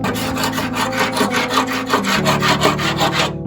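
Hand scraper rasping dirt, crud and rust out of a part in steady back-and-forth strokes, roughly a dozen rhythmic gritty passes, close and loud with no talking.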